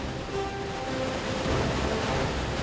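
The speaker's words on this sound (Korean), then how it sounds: "홈파팽 폭포. 이곳에서 메콩강은 거대하고 장엄한 힘을 과시합니다." The Khone Phapheng waterfall on the Mekong River in Laos roars with a dense, continuous rush of churning water, steady and powerful with no voices.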